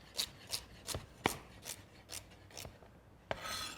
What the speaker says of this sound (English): It's nice to cut it so you put the nice flat side down on the cutting board so it doesn't move around on you too much.